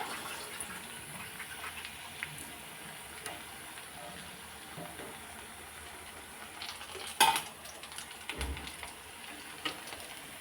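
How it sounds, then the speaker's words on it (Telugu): Mushroom pakodi frying in hot oil, a soft, steady sizzle that stays faint and close, with a few scattered clinks of utensils and a brief louder scrape partway through. "ఈ కలర్ వచ్చే వరకు వేగాలండి, బ్రౌన్ కలర్ వచ్చే వరకు."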